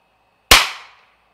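A single sharp crack from a .22 Long Rifle standard-velocity round fired through a suppressor, a close impulsive shot that decays quickly into silence.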